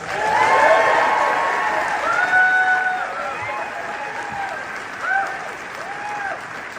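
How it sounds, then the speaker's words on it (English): At a Sundance film premiere, the crowd applauds the director with sustained clapping, while voices and cheers carry through the ovation. "Please give her a big round of applause."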